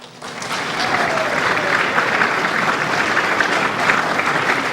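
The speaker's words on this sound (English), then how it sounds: "So please give a big round of applause for Mark Devlin" A room full of people at a symposium claps steadily for a speaker, dense and even applause building quickly and holding at a strong level.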